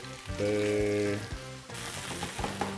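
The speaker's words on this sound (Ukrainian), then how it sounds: "І смажимо ще 5-7 хвилин." Steady sizzling of chicken drumsticks and mushrooms frying in a pan, with brief scraping and stirring clatter partway through and the hiss continuing throughout.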